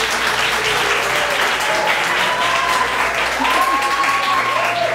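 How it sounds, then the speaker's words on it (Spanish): An audience at a scientific seminar bursts into sustained, loud applause that continues evenly throughout, with some voices faintly audible beneath the clapping. "Con un fuerte aplauso recibamos a la licenciada Jenny Arbel."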